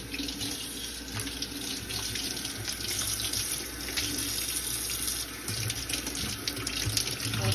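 Tap water runs steadily into a sink as a vegetable is rinsed beneath it, a continuous close splashing wash with no talking.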